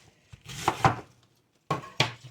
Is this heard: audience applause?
no